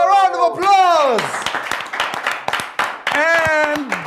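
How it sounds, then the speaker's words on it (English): Sharp, scattered hand claps ring out during a school book-prize presentation on an educational children's show, mixed with loud, high-pitched voices calling out close by. "A round of applause."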